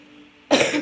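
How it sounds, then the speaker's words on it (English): A single close, loud throat clear bursts out after a half-second of near silence, harsh and rasping as it trails off. "I'm all clearing my throat."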